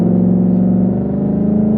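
A straight-piped 2019 Mustang GT's V8 runs in sport mode with a loud, deep, droning exhaust rumble heard from close by, steady with slight wavering and no voices.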